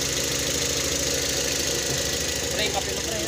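Toyota Vios engine running steadily at idle, checked for alternator noise, giving a constant mechanical hum with a faint ticking knock, close up and loud, with voices talking over it.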